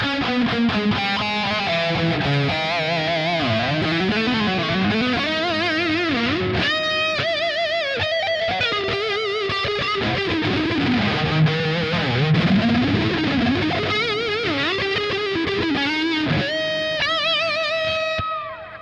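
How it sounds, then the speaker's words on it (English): Distorted high-gain electric guitar played through the Blood reverb of the JST Toneforge Jeff Loomis amp simulator, with sustained chords and melodic lead lines washing into a lush reverb tail, loud and continuous with no talking. "the Blood is actually the nicest sounding reverb of all"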